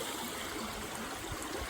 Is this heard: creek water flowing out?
yes